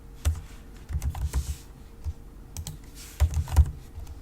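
Username typed on a computer keyboard, soft clustered key clicks in short bursts with brief pauses, close and fairly quiet.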